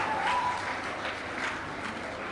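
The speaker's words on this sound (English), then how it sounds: "Round of applause for them" Applause from an audience at a primary school graduation ceremony, steady mid-distance clapping from many hands lasting a couple of seconds.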